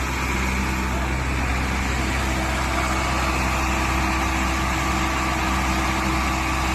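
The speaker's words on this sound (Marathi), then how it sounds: "तरी रेस भरपूर दिलेली आहे, ट्रॅक्टर चालू आहे।" A stuck tractor's engine, revved hard, drones loudly and steadily from start to finish, a deep continuous rumble with no pauses.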